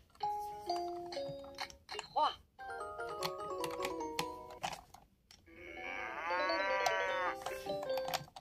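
An electronic toy rattle, the VTech Lumi ball, plays a synthesized melody and tones, followed by a longer warbling cow moo effect, moderately loud and close.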